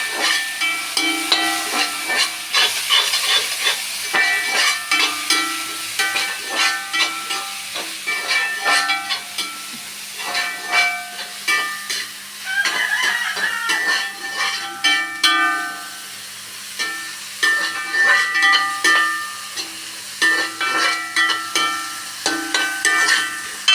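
Curry leaves, green chilies, ginger and garlic frying in hot oil for kothu porotta, a loud close sputtering hiss that rises and falls in repeated bursts, with no talking.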